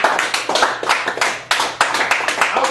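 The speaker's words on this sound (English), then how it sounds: "Cotton Campbell, give her a round of applause." Close applause from a small audience at a Chicago poetry open mic in a cafe gallery: quick, loud clapping with distinct hand strikes, steady for the whole stretch.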